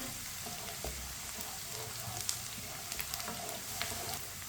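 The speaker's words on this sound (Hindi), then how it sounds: "प्याज को मैंने हल्का सा ब्राउन कर लिया है, हल्का सा भून लिया है।" Chopped onions fry gently in oil in a pan as they lightly brown: a steady, soft sizzle with faint crackles and a few small pops, close by and with no voices.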